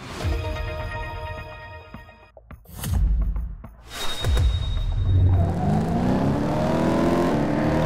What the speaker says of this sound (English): So this north loop is no problem for my maxed blue Porsche 911.